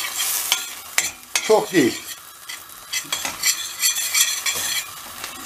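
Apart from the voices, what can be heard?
stirring and frying kuymak in a pan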